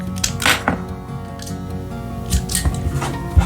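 Scissors snip through embroidery floss for a cross-stitch project, giving a few sharp, close cuts with soft handling rustle between them.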